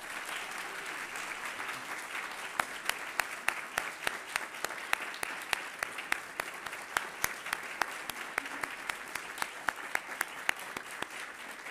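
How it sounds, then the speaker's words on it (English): Sustained audience applause after an evening lecture, steady dense clapping from a crowd throughout, with a few sharper individual claps standing out near the front. "let's applaud her again"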